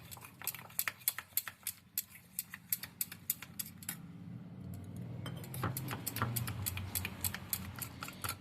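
A whisk or spoon clinks briskly against a bowl while mixing flour into oil for a thin batter, with rapid rhythmic taps, a short pause and a softer, denser stretch of stirring.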